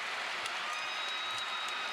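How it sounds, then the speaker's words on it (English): An arena crowd at a women's college gymnastics meet between Oklahoma and Georgia keeps up steady, even applause and cheering, a continuous wash of clapping with no break. "The crowd is calling for a 10."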